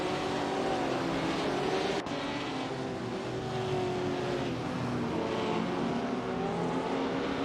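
Race cars lapping in a racing video game with classic 1950s machines, including a Maserati, producing a continuous layered engine drone whose pitch rises and falls as the cars accelerate, with a brief click partway through.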